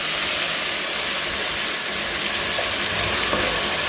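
Onions frying in a pan and being stirred give off a steady, loud sizzle with a bright hiss that holds evenly throughout, with faint scraping of stirring beneath it.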